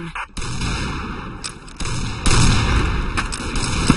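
Rapid gunfire from the online shooter game Combat Arms, dense overlapping shots and booms continuing steadily at a loud, near level throughout.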